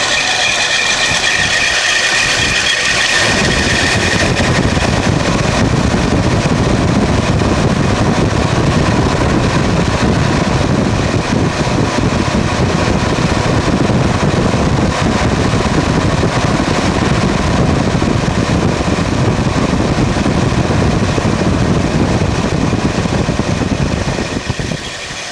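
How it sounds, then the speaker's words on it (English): A 1972 Lincoln Continental engine idles with a loud, rattling mechanical flex blade fan that has no clutch, a constant dense whir and clatter running steadily throughout with no talking. "It's a straight fan, mechanical fan, called a flex blade fan."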